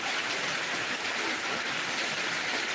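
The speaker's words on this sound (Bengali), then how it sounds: "এই মুহূর্তে দিনাজপুর সদরের ভেতরে এই মুহূর্তে মুসলধারে বৃষ্টি হচ্ছে" Heavy downpour in Dinajpur town, a dense, steady roar of rain falling on surfaces, loud and unbroken throughout with no voices.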